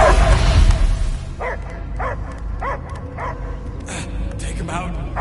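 Dog barking and yipping repeatedly in a steady run of short, evenly spaced barks at moderate distance, with a rumbling background and a louder muddled burst at the start.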